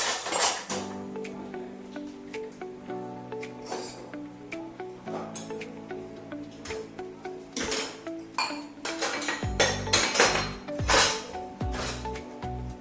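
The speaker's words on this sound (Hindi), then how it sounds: "तो छोटे मोटे बर्तन हैं, इनको इनकी जगह में फटाफट से लगा लेते हैं।" Small kitchen utensils and pots are put away, giving irregular metallic clinks and clatters close by under steady background music.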